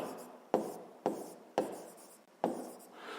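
A pen scratches across paper while a sixth-grade math exercise is worked out, with four or five sharp, evenly spaced strokes that each fade quickly, quiet and close.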